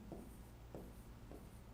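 A pen writing on a board or paper in a live exam-prep class, giving three faint, brief scratching strokes at a steady pace over a quiet background hum.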